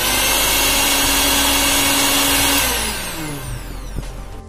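A repaired mixer grinder's motor whines at a loud, steady pitch, then spins down with a falling tone as it coasts to a stop.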